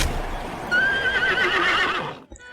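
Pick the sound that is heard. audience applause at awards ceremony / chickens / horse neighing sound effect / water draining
horse neighing sound effect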